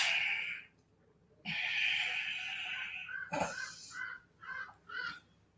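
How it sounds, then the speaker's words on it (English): Crows caw outdoors, one long harsh call, then a longer raucous stretch followed by four short, evenly spaced caws, moderately distant and clear against a quiet background. "Crows are talking."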